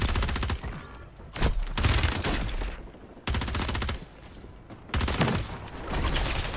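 Rapid automatic gunfire from Call of Duty Warzone on Fortune's Keep rattles in loud, dense bursts, broken by short pauses between volleys.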